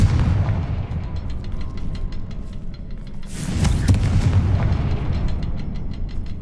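A Confringo fire spell explosion in Hogwarts Legacy, a deep booming blast with crackling bursts over a continuous low rumble of game ambience, fairly loud and near.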